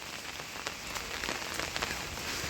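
Steady rain falls on a surface with a dense, even hiss and scattered drop patters throughout, moderately faint and with no voices.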